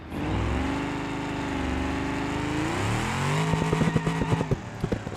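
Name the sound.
car brakes locking up, tires skidding in BeamNG.Drive video game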